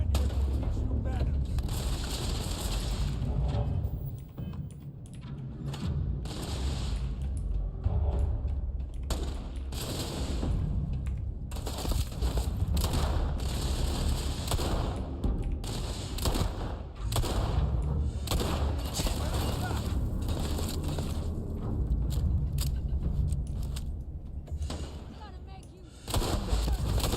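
Video game gunfire, dense repeated shots and bursts rattling almost continuously for nearly half a minute, with voices talking over the shooting.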